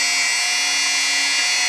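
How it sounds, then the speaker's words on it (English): Dremel rotary tool with a felt polishing wheel working on turquoise in a metal setting: a loud, steady, high-pitched whine held throughout, close to the microphone. "felt for your dremel actually helps to avoid contact with the metal"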